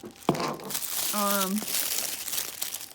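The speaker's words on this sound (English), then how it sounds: "So let's unwrap Scorch here" Paper wrapping rustles and crinkles as it is torn away from a Black Series action figure in plastic-free packaging, close and continuous, with a brief voice in the middle.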